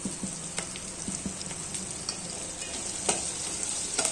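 Onion and red pumpkin fry in oil for sambar, giving a steady, close sizzle with occasional stirring scrapes and clinks throughout, no voices.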